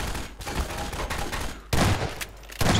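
Bursts of rapid gunfire in the video game Half-Life 2, sharp volleys coming in clusters, with the loudest blasts near the end and no talk over them.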